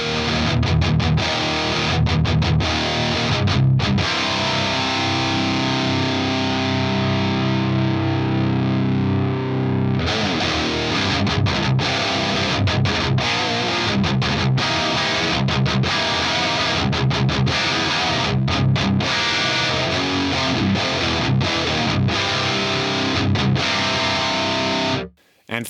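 Heavily distorted electric guitar played through a Fractal AX8 Rectifier amp model with the low resonance set to 85 Hz, dense chugging riffs with sustained chords and a brief break near the end.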